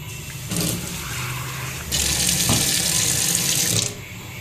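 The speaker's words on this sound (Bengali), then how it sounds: "এই চালটা চলো ধুয়ে নেব।" Rice is rinsed in a kitchen sink under a running tap. Water splashes steadily at close range and grows louder and fuller for about two seconds in the middle before easing back.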